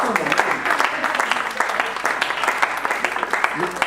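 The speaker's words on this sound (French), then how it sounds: "Oui, acclamons le Seigneur." Sunday church congregation applauding during a pastor's sermon, dense loud clapping filling the room close by, with voices mixed in under the applause.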